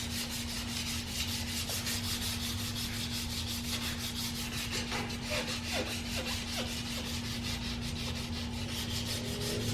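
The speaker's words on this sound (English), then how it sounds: "set for a while so we can start shaping it with sandpaper." Sandpaper worked by hand over dried filler putty on an aluminum car wheel, giving a steady run of quiet rhythmic rubbing strokes over a constant low hum, with no talking.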